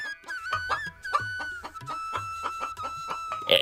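Two cartoon chickens cluck in a steady run of short, close calls, the rhythmic clucks loud and alone against a quiet background.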